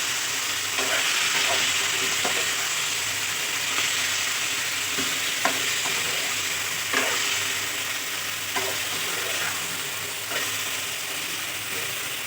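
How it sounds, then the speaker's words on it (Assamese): Mutton pieces fry over low heat in a little oil, a steady close sizzle with occasional clicks and scrapes of stirring scattered throughout. "এইখিনি এতিয়া কম জুইতে অকণমান টাইম ভাজি ল'ম"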